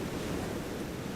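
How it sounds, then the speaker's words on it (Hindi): Wind blows steadily in an outdoor setting, a continuous broadband rush of air that is fairly faint and even, with no voices. "कितनी अच्छी हवा चल रही है।"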